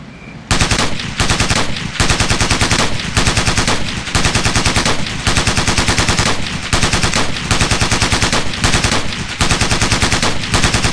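Sustained automatic gunfire from a 300-round assault on a target in Ghost Recon Navy SEALs, loud rapid bursts with brief pauses between them, dense and close for the whole stretch.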